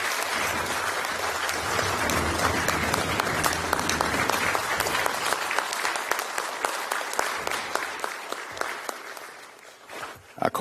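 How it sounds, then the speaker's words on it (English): An audience at a Prince Hall slavery remembrance program hosted by a congressman breaks into sustained applause, dense steady clapping that slowly thins and fades out near the end. "Let's give them another round of applause."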